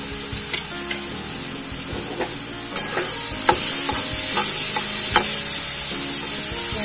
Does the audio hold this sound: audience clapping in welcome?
no